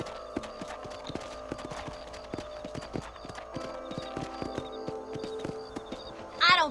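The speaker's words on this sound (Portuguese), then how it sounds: "Cavalo." Clip-clop of horse hooves walking at a steady rhythm in the video game Red Dead Redemption, crisp repeated hoofbeats, with a brief whinny-like sound right at the end.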